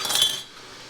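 A metal canning jar lid clinks as it is picked up during blackberry jelly canning, giving a short bright rattle near the start that fades quickly.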